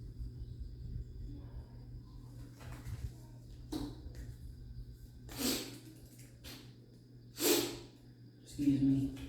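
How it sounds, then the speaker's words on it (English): A person sniffling with a stuffy nose, several short sharp sniffs and snorty breaths spaced apart over a quiet low hum, loud and close to the microphone. "Excuse the sniffles."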